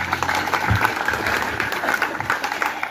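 An audience claps for a stage performance of song and dance, a steady patter of applause with a few louder bursts and faint background voices.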